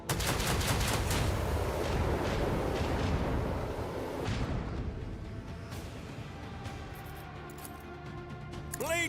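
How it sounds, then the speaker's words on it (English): Heavy artillery salvo in the Rogue Trader video game, a dense roar of overlapping booming shots that fades into rumbling echoes and scattered impacts, loud throughout with no talking. "Another salvo! Shoot him real good."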